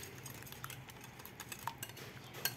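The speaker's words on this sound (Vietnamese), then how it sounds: "Rồi mình quậy cho nó tan trứng ra." Beaten eggs with fish sauce, sugar and salt are stirred in a bowl for a rolled omelette, a faint, quick run of light clinks and scrapes of a utensil against the bowl, with no talk.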